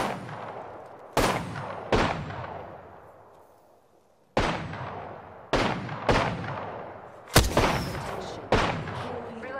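Gunfire in the Apex Legends battle royale game, loud sharp shots and short bursts spread out over several seconds, each followed by a ringing decay, with no voices.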